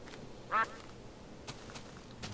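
A single short duck quack sounds in the Minecraft game, faint against a quiet background, followed by a few soft clicks.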